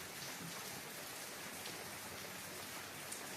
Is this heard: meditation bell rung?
no